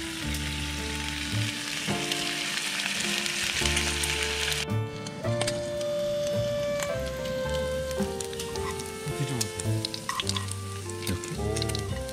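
Pork belly sizzles and crackles steadily on a wood-burning stove inside a tipi tent, a constant frying hiss with occasional pops and scraping of utensils nearby.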